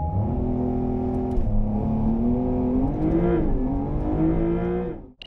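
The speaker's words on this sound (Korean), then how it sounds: "911 카브리올레 GTS죠? 과연 얼마만큼의 발진 가속 기록을 냈는지 볼까요?" A 2023 Porsche 911 Carrera GTS Cabriolet making a launch-control acceleration run, its engine note climbing through the revs with gearshift dips, loud and continuous before cutting off sharply at the end.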